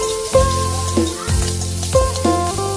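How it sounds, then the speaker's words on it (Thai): Garlic and marinated pork stir-frying in a hot pan, a loud steady sizzle broken by a few short scraping stirs, close up with no talking. "หลังจากนั้นก็ใส่หมูมักลงผัดครับผัดให้สุกนะครับ"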